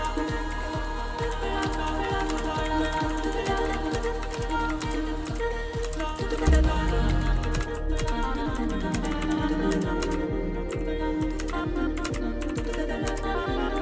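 Steady computer keyboard typing during a Tetris Effect session, close and continuous over a constant game-music bed, with a brief louder bump partway through.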